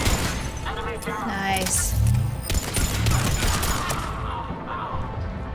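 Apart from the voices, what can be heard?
gun turret firing in the video game Mass Effect 3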